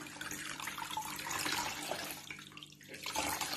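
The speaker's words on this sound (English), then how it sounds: "give it a gentle squeeze to get most of the water out" Water squeezed gently out of a soaked crochet garment, a soft continuous trickling and dripping close by, quiet and steady throughout with no talking.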